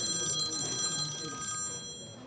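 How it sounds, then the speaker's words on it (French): A telephone rings with a steady electronic trill that holds for about two seconds before fading, fairly close and clear, with no voices over it. "Un journaliste appelle le médecin"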